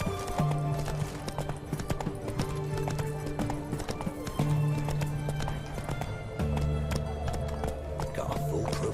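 Horse hooves gallop in The Witcher 3, a fast rhythmic clip-clop that runs throughout with whinnies and snorts. Steady humming game music plays underneath.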